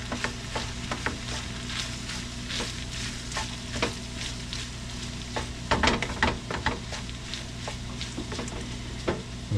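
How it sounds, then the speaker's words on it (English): Sweet yellow corn and porcini mushrooms sizzle steadily in a frying pan while being stirred, a constant near crackle broken by scraping spoon strokes, with no one talking. "Give it a stir."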